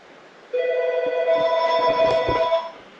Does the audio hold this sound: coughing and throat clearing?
no